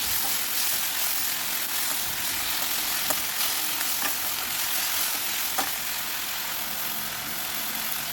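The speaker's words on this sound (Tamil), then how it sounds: "நறுக்கி வச்சுருக்கிற தக்காளி, மல்லி இலை இதெல்லாம் சேர்த்து நம்ம வதக்கிக்கலாம்." Chopped tomatoes and coriander leaves sautéing in a pan for coriander chutney, a loud continuous sizzle with occasional faint scrapes of stirring.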